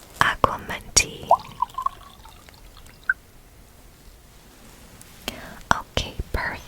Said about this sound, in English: And I will fill this cup with water.